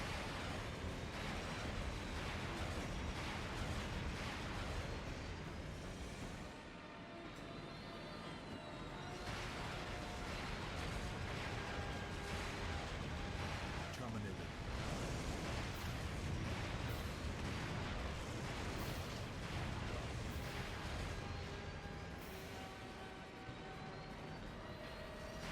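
An awkward-driving tank in Terminator 3: The Redemption fires amid nonstop explosions, a dense, loud roar of blasts and rumbling that barely lets up across the whole stretch.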